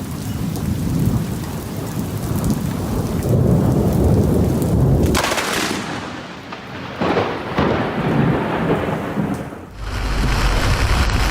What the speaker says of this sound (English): Bad storm.